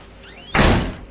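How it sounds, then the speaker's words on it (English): A door shuts in the Outlast horror video game: a creaking swing rises briefly, then a loud, close thud of the door closing that rings out for a moment before fading. "Shut the door."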